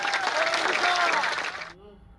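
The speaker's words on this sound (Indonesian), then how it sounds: "Tepuk tangan untuk Papua" A crowd applauds loudly with dense, steady clapping that cuts off abruptly near the end, leaving near silence.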